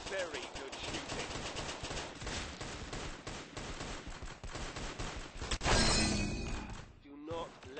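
Rapid bursts of gunfire from the online shooter Arsenal crackle almost continuously at close range, with a louder blast near the end, while a person talks over the shooting.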